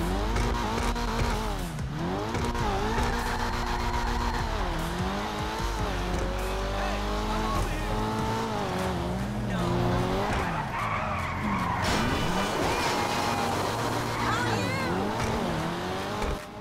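A limited-release car in GTA 5 Online roars continuously, its engine revving up and down in repeated sweeps while tires squeal and skid, loud and close for the whole stretch.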